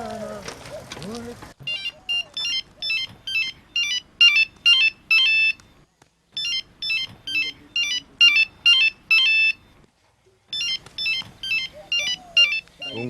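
A mobile phone ringtone plays: loud, bright electronic melody bursts repeat in regular rings separated by short silences, after a brief stretch of voices at the start.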